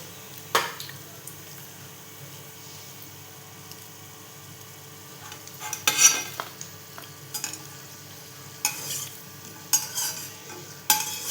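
Potato fingers frying in hot oil for a crispy snack, a soft steady sizzle broken by several sharp stirring and utensil clinks against the pan, close and without talk.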